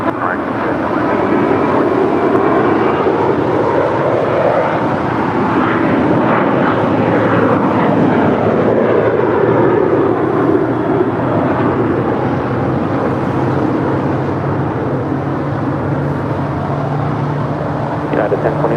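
Airliner taking off from runway 25 right at LAX, a loud continuous engine roar filling the whole stretch, steady and close with slowly shifting whine, radio voices faintly underneath.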